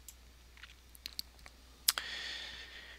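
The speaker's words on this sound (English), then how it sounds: "right click on computer and click properties" A computer mouse clicked several times, light sparse ticks spaced apart, followed by a soft electronic whir, quiet and close in an otherwise still room.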